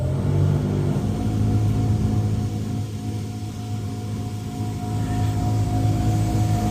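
A seed separator driven by a variable frequency drive hums and rumbles steadily, a loud mechanical drone with a faint whine that sags slightly midway as the unit slows, close by with no voices.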